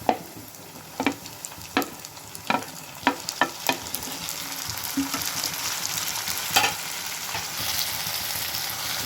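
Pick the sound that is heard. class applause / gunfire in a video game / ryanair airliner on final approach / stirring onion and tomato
stirring onion and tomato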